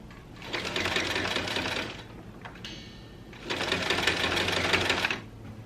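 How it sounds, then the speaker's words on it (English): A sewing machine back stitching a pillow, with two rapid whirring bursts of stitching about two seconds each and a short quiet pause between them. "you want to back stitch to really get your stitch strong on the start"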